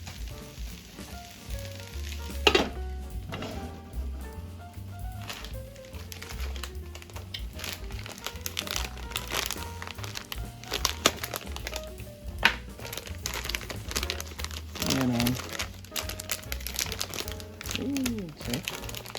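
A soup mix package crinkles and crackles as it is torn open for a leftover turkey soup, a close, busy rustling mixed with kitchen clatter and a voice speaking over it.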